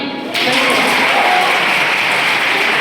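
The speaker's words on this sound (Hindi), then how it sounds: "जोरदार ताली" An audience at a Constitution Day quiz competition claps loudly and steadily after a burst begins, a dense sustained round of applause with no speech over it.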